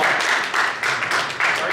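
Steady crowd applause at a convention panel, a dense wash of many hands clapping with a few swells, fairly close and continuous throughout.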